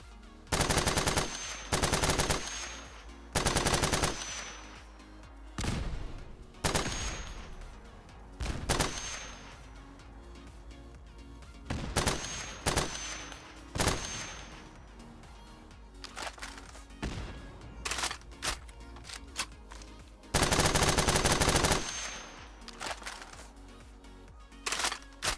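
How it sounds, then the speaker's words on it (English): FN P90 submachine gun fire with custom modded sound effects in Fallout 4: loud, sharp bursts of rapid automatic shots in clusters separated by quieter gaps of game ambience and handling clicks, with no speech. "take note of the custom sound effects and especially the animation when I reload the P90"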